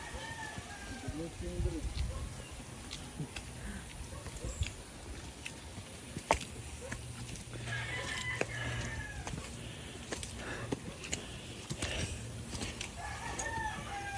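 A rooster crows on a farm, a few faint calls amid clucking fowl and soft rain on surfaces, heard under frequent nearby talking.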